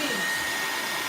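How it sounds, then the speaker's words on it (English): An old hair dryer blows steadily and loudly, a constant rushing whoosh with a faint high whine, with no pauses and no voices. "So this is an old hair dryer that Aisha was gonna."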